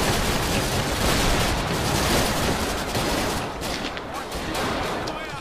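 Dense, continuous gunfire from Dino D-Day multiplayer combat, loud and close, with overlapping rapid shots and rattling bursts that thin slightly toward the end.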